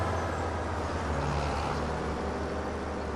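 A vehicle in Farming Simulator 25 drives along a road, its low engine drone blending with steady tire road noise in an even, continuous rumble at moderate volume.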